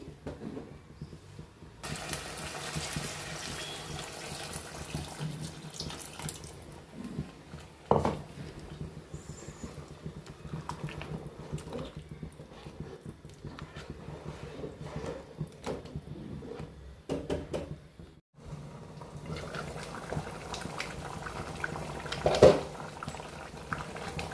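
Crab curry with tamarind juice simmers at a strong boil over a high gas flame, a steady close bubbling and sputtering that continues with small pops and crackles throughout, no voices.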